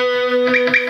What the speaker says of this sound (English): You have a delay pedal.